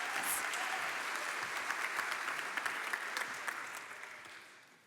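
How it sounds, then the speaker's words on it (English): Warm audience applause at a conference closing session, dense and steady clapping from a large crowd that holds level and then gradually fades toward the end. "Give her a warm applause."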